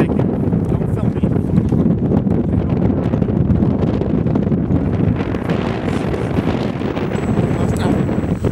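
Strong, gusty wind of 25 to 35 knots roars across the microphone outdoors as a dense, unbroken rush that stays loud for the whole stretch.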